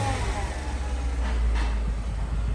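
Stock-exhaust V8 of a Mercedes CLS 500 idling steadily, a quiet, even low rumble with fan shroud whir layered over it, continuous and close throughout.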